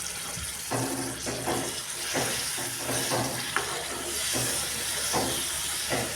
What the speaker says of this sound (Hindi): इसमें मैं ऐड कर रही हूँ इमली का पानी।